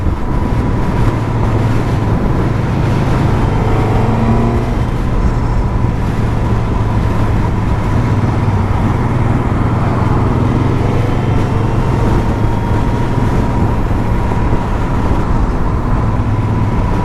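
A Suzuki GSX-S1000 GT motorcycle cruises in sixth gear, its engine droning steadily under loud, constant wind and road roar from start to finish, with no talk.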